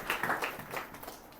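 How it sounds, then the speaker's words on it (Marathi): A church congregation claps hands together, a brief, soft patter of overlapping claps that fades quickly, with no talking. "टाळ्या वाजू द्याल"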